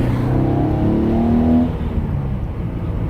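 A stock exhaust on a Hyundai Genesis Coupe rumbles steadily nearby, rising briefly as the engine revs and then settling back, with no talk over it.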